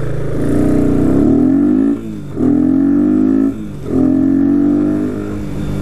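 A 250cc motorcycle running with no air filter revs hard three times in a row, each loud, rising rev dropping briefly before climbing again, close up and with no one talking.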